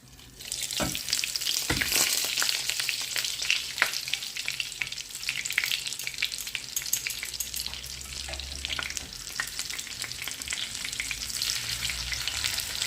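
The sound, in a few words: hake fillets frying in batter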